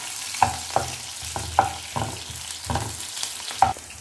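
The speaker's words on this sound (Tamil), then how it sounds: "நல்லா வெங்காயம் வதங்கணும்." Onions sauté in a pan for a drumstick-leaf kulambu. There is a continuous close sizzle, with stirring scrapes and taps about every half second to second.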